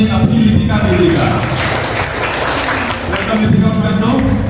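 Audience applause welcoming a guest onto a stage, a steady wash of clapping that holds at an even level throughout with light chatter mixed in.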